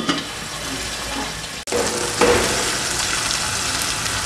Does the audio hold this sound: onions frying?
yes